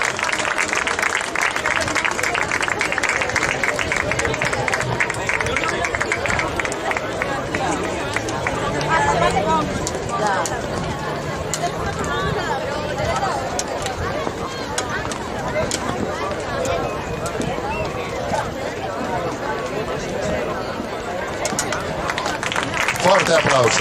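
Crowd applause at an outdoor beach handball trophy ceremony in Moaña, a sustained wash of clapping and cheering with chatter, under a loudspeaker voice announcing, steady and fairly loud throughout.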